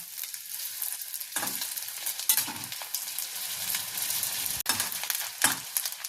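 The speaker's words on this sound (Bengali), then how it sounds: "দেখুন এইভাবে গোল্ডেন ফ্রাই করতে হবে, একটু লাল লাল করে ভাজলে খুব ভালো লাগে।" Pieces of rohu fish fry golden in hot oil with a steady, continuous sizzle, broken by a few louder bursts of crackle as they are stirred or turned; no voices.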